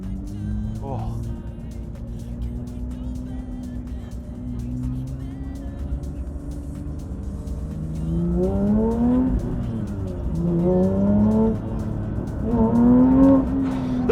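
A Porsche GT3 engine idles low, then revs hard and accelerates, pitch climbing through repeated surges toward high RPM, loud and close from inside the cabin, with people talking over it.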